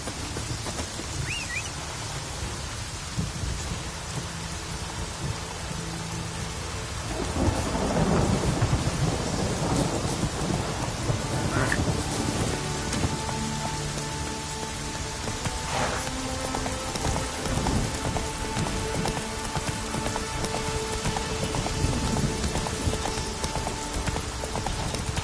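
Stormy weather in The Witcher 3 on the Death March difficulty: steady rain pours throughout, with a heavy rolling thunderclap swelling midway, and a horse's hoofbeats clopping underneath, all without talk.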